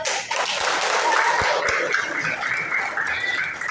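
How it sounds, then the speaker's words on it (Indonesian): Classroom of students clapping for their class leader during a teaching session, a fairly loud burst of mixed hand claps and a few sharper taps, with faint voices. "Beri tepuk tangan untuk ketua kelas kita."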